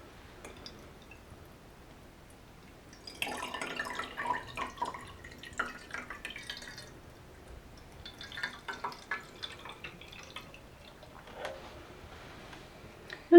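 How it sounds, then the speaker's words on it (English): Fresh water trickles and drips into a glass propagation jar holding a fiddle leaf fig cutting, in soft, faint intermittent bursts with quiet pauses between them. "I'm just going to top it up with some fresh water as well."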